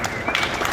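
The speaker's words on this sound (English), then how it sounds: "Round of applause for him." A press-conference crowd at a Toyota event claps for a NASCAR driver, a brief burst of dense applause with voices mixed in.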